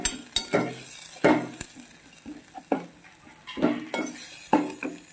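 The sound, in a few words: spices and salt being fried and stirred in a pan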